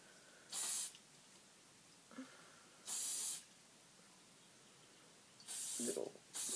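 Hairspray sprays onto hair in four short, sharp hissing bursts separated by quiet pauses, close and fairly loud with no talking.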